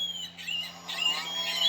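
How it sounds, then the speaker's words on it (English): A short recorded ring-billed gull call from an Audubon plush bird toy, thin high squealing cries repeated a few times, faint and close over a low electrical hum. "Ring-billed gull."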